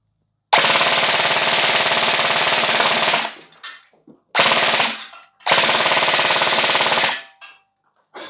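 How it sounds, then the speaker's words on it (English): An Arcturus AEG airsoft rifle on a field test fires three loud, close full-auto bursts, a fast mechanical buzzing rattle, the first about three seconds long and the next two shorter, separated by brief silences. "So now we're just gonna see what we get here in terms of full auto. I'll do a similar burst with it."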